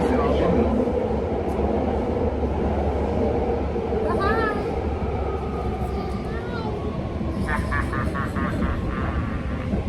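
A train rumbles and squeals on the rails as it slows into Embarcadero station in San Francisco, with a steady low roar and a few brief high metallic screeches.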